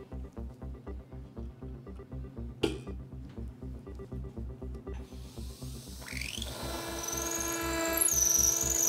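Dental implant drill working through medium-density bone, a 4 mm F-series bur in a sequential osteotomy: steady close motor whir with rhythmic pulsing, a sharp click near the middle, then a rising higher-pitched whine toward the end, no voices.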